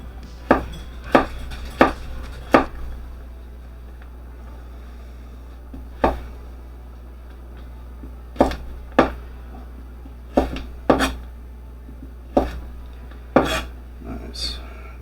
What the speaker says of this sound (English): for the larger slices, I'll cut it in half to get matchsticks